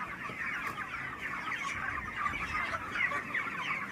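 Chickens on a poultry farm cluck and squabble over feed, a dense, busy chatter of many birds at moderate distance, fairly quiet and continuous.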